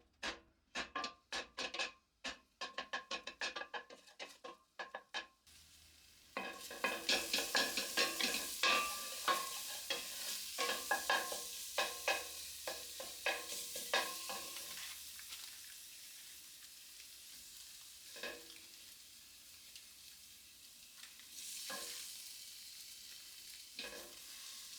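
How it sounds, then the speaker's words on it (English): Garlic, olive oil and tomato paste sizzle and fry in a pan while being stirred, with scraping utensil strokes up front and then a steady loud sizzle throughout. "I'm going to add the tomato paste to cook that raw tomato flavor out"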